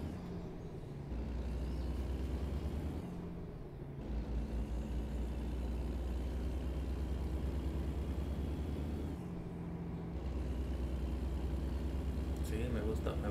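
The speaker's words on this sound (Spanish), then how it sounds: "me gusta el sonido de este motor, la verdad" A Kenworth truck engine in American Truck Simulator drones steadily at low pitch, easing off briefly twice as if between gear shifts, loud and continuous with a short air hiss near the end.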